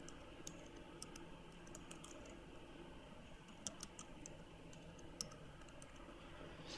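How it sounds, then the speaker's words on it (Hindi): Computer keyboard typing in MS Word 2007, faint scattered key clicks at an uneven pace over a steady background hiss. "यहाँ पे मैं कुछ टाइप कर देता हूँ।"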